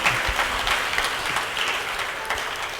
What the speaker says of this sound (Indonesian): Tepuk tangan bagi Tuhan Yesus.